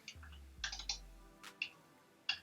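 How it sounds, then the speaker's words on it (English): Keys on a computer keyboard tapped in short scattered bursts of quick clicks with brief gaps, fairly quiet over a low background hum. "I hear him typing."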